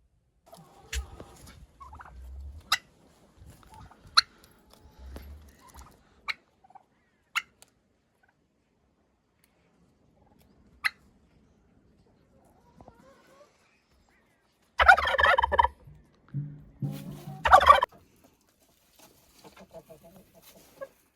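Broad Breasted White turkeys gobble in short bursts with scattered clucks and pecks between, a couple of louder gobbling calls near the end, fairly close by.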